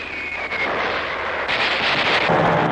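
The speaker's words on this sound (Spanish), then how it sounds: "Podemos oír nuestra artillería, es muy estruendosa." Heavy, booming artillery fire rumbles continuously, with loud broadband blasts and a droning aircraft-like roar in the background.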